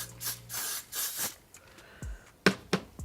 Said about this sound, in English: I'm actually gonna spray some of this on here